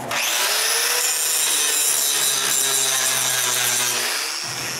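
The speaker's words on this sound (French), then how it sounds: "puis je lime le métal autour des trous" Metal being hand-filed around freshly drilled holes in a plate, a steady, continuous close rasping scrape with no pauses and no voices.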